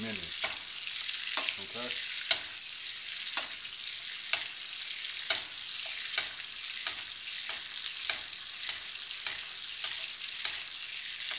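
Lamb pan-searing in butter and oil, a steady close sizzle with repeated sharp spoon-basting clicks and splashes every second or so; a voice speaks once briefly.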